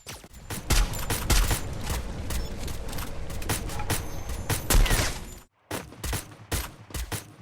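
Gunfire rattles in the Free Fire battle-royale game during a tournament match, with dense rapid shots and heavy impacts filling the scene before a brief gap and a few more sharp bursts.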